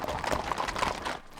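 A herd of horses on a long drive, moving at a quickened pace, produces a dense, busy patter of overlapping hoofbeats, loud and close for a brief stretch.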